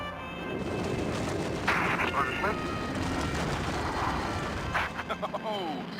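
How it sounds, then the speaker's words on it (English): Lockheed X-plane jet with afterburner lit, a loud broadband roar that holds steady for several seconds with a rising surge midway, heard under narration. "Lighting the afterburner provides the extra push needed to go supersonic."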